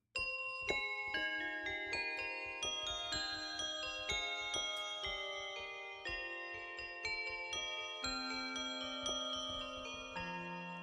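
Bright synthesized bell tones from the Chromaphone 3 synthesizer, randomly delayed, ring out one after another in a steady cascade, overlapping and decaying, each chime struck cleanly with shimmering overtones.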